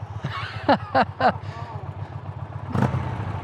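An Indian Pursuit Limited motorcycle idles nearby with a steady low throbbing engine note, while someone speaks over it and a brief rev-like swell comes near the end.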